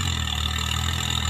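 A Mahindra 585 DI XP Plus tractor engine runs with a tiller mounted behind it, a steady close diesel drone with no break, loud and alone.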